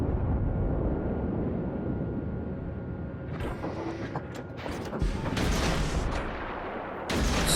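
Warship guns firing in World of Warships, heavy booming salvos over a constant low engine and sea rumble, with a cluster of blasts in the middle and another loud report near the end.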